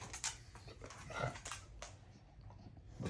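A dog whimpers and whines quietly close by in short, uneven high-pitched bursts with some panting and sniffing, set against a soft room background with no speech.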